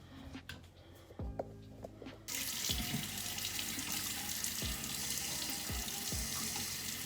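Bathroom tap running into a sink while a face mask is washed off, a steady close water rush after a brief quiet start, with hands splashing and occasional soft knocks.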